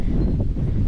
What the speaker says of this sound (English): Excuse the wind. It is windy.